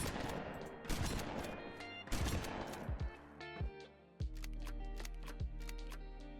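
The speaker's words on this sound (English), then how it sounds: "Here is the shotgun." Shotgun blasts from a Fallout 4 weapon pack ring out in sharp, loud bursts, roughly five or six shots spaced about a second apart, with mechanical clacks of pumping and handling between them.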